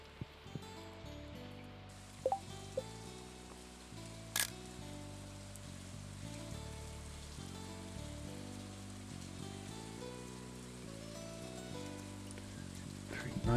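Rain falling in Stardew Valley, a soft steady patter of rain that stays faint under looping game music, with a few sharp clicks early on and a talking voice.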